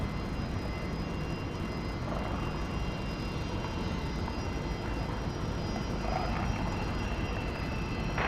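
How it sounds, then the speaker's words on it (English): A Beechcraft C90 King Air turboprop arriving at Dallas Love Field from Amarillo, Texas, gives a steady, even engine roar that holds throughout with no voices over it. "This is a Beach C90 King Air coming in from Amarillo, Texas."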